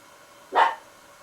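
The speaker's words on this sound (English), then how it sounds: "I'll make the dog bark again" A single short dog bark sounds once inside a private house, a brief isolated woof at moderate distance against quiet room background, with no voices.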